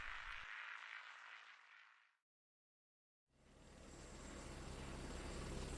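A helicopter sound effect from a radio drama gives a steady, rushing roar that cuts to silence for about a second, then returns and builds louder, with no voices.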